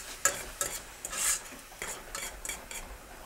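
Spinach and garlic cooking in a pan, stirred with a utensil that clicks and scrapes against the metal in irregular strokes over a faint sizzle, close by, no voices.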